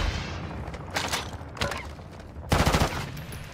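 Rapid gunfire in a video game shooter, loud dense bursts of shots crackling over a constant rumbling background, close and continuous.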